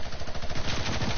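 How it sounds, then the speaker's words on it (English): Minigun in a video game firing a dense, continuous burst of rapid shots, loud and close, sustained for just over a second with no talking. "Minigun!"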